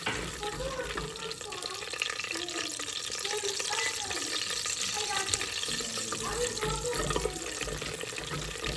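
Green chillies and curry leaves frying in oil in a pan while being stirred, made for a Nellore-style katte pongal: a steady sizzle with some scraping of the stir, close by, and a person talking over it.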